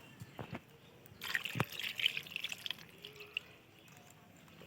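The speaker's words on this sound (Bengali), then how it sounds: "এবার আমি কষানো হয়ে গেছে জল দিয়ে দিলাম" Water is poured into a pan of browned chicken and potato curry, a close splashing, trickling stream with sizzle lasting a couple of seconds, followed by softer dripping.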